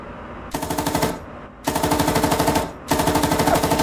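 Three bursts of automatic fire from a T-72 tank's 7.62mm PKT coaxial machine gun in a video game, each a rapid, loud rattle of shots, separated by short pauses.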